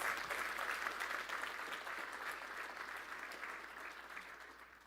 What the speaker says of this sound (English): we deserve a freaking round of applause